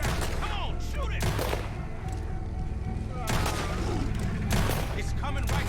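Gunfire in the video game Red Dead Redemption 2, several loud shots and booming blasts close together during a chase, mixed with game sound and voices.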